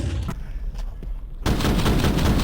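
Rapid gunfire from a Counter-Strike esports match, with a quiet gap broken by a few faint shots, then a loud, dense burst of shots and crowd-like roar in the second half.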